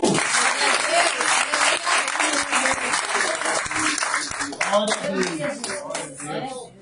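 Church congregation applause fills the room, dense and steady clapping mixed with crowd voices, tapering off toward the end.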